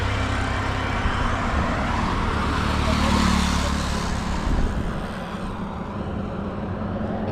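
Road traffic near Otres Beach in Sihanoukville, Cambodia, passes close by, a steady rumble of cars and motorbikes that swells to a peak and then fades off.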